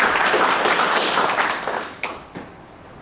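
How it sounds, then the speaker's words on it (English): Audience applause in a county commissioners courtroom, a burst of many hands clapping that fades over about two seconds to a few scattered claps. "join me in giving them a big round of applause for all of this"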